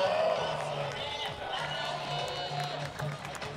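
A crowd at an FCBL collegiate summer baseball game between the Nashua Silver Knights and Norwich Sea Unicorns cheers after a triple, a steady, moderately close roar of voices and applause.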